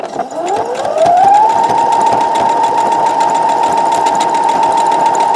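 A sewing machine runs steadily in a zigzag stitch along a tee shirt neckline, whirring up to speed in the first second and then holding a constant, close, continuous hum with no talking.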